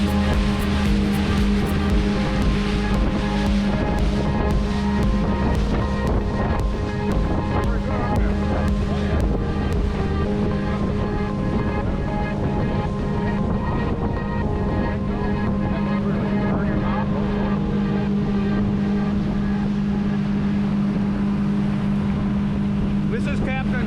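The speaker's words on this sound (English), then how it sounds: "we went on a really nice boat ride" A motorboat engine drones steadily throughout, with wind buffeting the microphone and water rushing past; the hum stays loud and constant.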